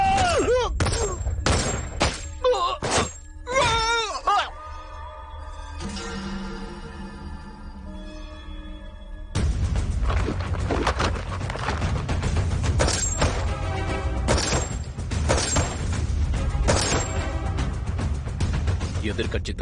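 A firing squad opens fire in a Tamil-dubbed action film, a dense, loud burst of rapid gunfire that erupts after a stretch of spoken dialogue and keeps crackling to the end.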